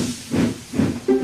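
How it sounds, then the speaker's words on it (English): Steam engine venting steam: loud broadband hissing in several rough bursts, close and alone, with a brief tonal note at the end. "Soon, Emily was steaming up hills and through valleys"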